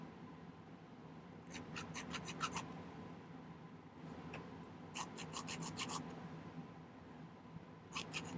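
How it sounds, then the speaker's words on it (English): Metal file rasping across a ring shank in short bursts of rapid strokes, with quiet pauses between them; close and fairly faint against a low background hum. "Let's see how good our filing has been."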